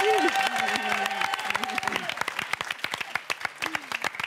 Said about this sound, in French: On vous applaudit, Michel, Martine, merci d'être là.